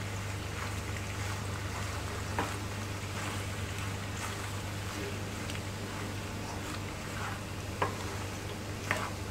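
Masala pasta being mixed with cheese in a pan, a steady soft sizzle with scattered scrapes and clicks of a utensil, a low hum underneath, no talk.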